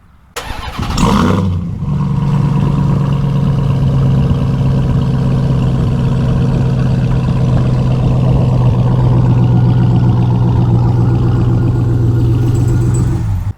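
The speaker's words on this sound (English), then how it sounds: "So we'll do a little quick remote start if you haven't heard one yet." A RAM TRX pickup truck started cold by remote: a brief starter crank, then the engine catches with a loud burst through its exhaust and settles into a deep, steady, rumbling idle, close and alone.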